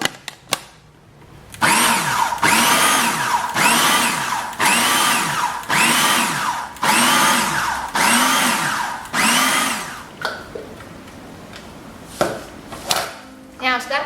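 A blender pulses black beans for a vegan burger patty in about eight loud, evenly spaced bursts of whirring motor, each cutting off sharply, followed by a few short irregular pulses near the end.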